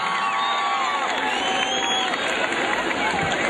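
An audience in Vanadzor cheers and applauds as the singer takes the stage, a dense, steady wash of crowd noise with whoops and shouts running throughout at close range.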